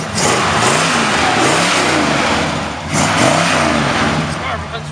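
A 1974 Dodge Monaco with new mufflers revs hard, its big engine rising and falling in two loud surges with a steady rumble between them.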